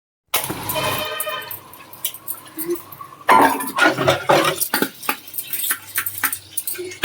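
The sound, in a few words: scrubbing and washing ghee-greasy utensils with soap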